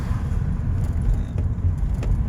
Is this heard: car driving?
yes